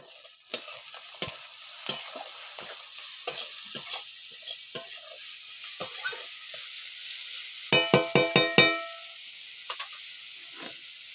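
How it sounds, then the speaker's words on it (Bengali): A spatula stirs turmeric powder into food frying in a pan. Regular scraping strokes sound over a continuous sizzle, and a quick burst of metallic taps comes near the end. "হলুদ গুঁড়ো দিচ্ছে, কিছু নেড়ে নিল।"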